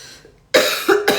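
A woman with a lingering cough lets out one sharp cough followed by a second, shorter one, close and loud after a brief quiet moment.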